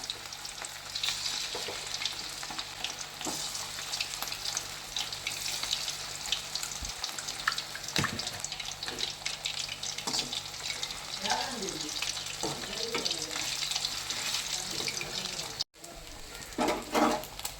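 Chicken pakoda pieces deep frying in hot oil, a steady dense sizzle and crackle running throughout with occasional stirring clinks and a brief dropout near the end.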